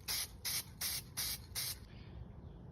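A spray can applies textured mailbox paint in five short, evenly spaced hissing bursts, close and soft. A quiet pause follows.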